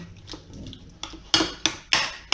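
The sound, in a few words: mixing oil and basil marinade in a bowl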